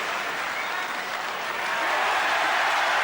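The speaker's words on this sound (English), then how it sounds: "Well, they're cheering" A snooker crowd applauds steadily for the whole stretch, a dense, even wash of clapping and cheering that swells slightly toward the end.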